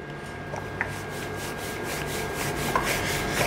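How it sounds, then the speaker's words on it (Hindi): Khoya-stuffed paratha dough rolled out with a wooden rolling pin, a steady soft rubbing and scraping that continues alone throughout, close and fairly quiet with a few small knocks. "फिर आपने इसको बेलन से बेल लेना है।"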